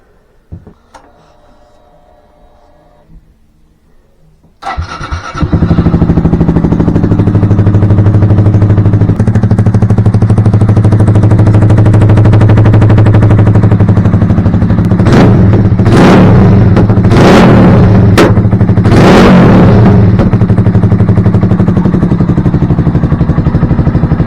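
A 2023 Honda Grom motorcycle engine bursts to life after near silence, then holds a loud, steady roar up close with several sharp revving surges as the rider pulls wheelies.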